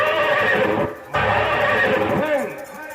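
A horse neighs loudly in a staged Nautanki folk theatre performance, a long whinny broken by a brief pause, with hoof clatter and music beneath and voices nearby.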